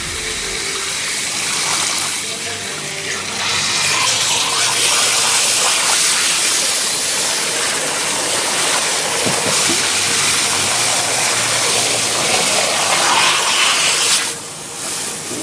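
A shower sprays at high water pressure, a loud, steady broadband hiss and rush of water that continues for the whole stretch, briefly dipping and surging near the end.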